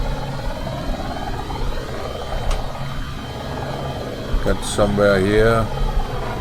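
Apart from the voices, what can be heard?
helicopter engine in a video game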